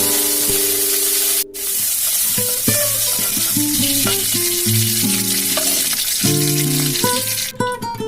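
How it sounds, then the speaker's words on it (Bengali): Peanuts fry in mustard oil with a continuous bright sizzle, heard under a loud musical backing track, with no speech. "সর্ষের তেল দিয়ে দিয়েছি এবার বাদামগুলো ভেজে দেবো"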